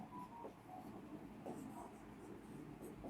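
Pen or marker writing out an electronic configuration for an atomic structure lesson, faint scratchy strokes in short bursts over a quiet background hum.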